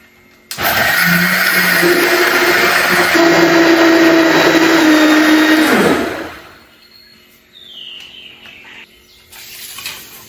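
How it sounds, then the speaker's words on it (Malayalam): Kitchen blender whirring through jamun (java plum) juice with milk and sugar, a loud, close motor whine for about five seconds that winds down and stops, followed by faint clinks and handling noise. "അപ്പൊ നമ്മള് ഞാൻ ഉൾപ്പെടെ ജ്യൂസ് അടിച്ചു കഴിഞ്ഞു"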